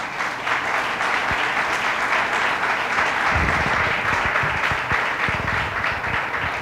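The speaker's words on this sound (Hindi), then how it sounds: "आए हम खुदा उनके जलाल के लिए जोरदार तालियां बजाएं" A church congregation bursts into loud, sustained applause and clapping that holds steady and dense throughout, with some low thumps mixed in partway through.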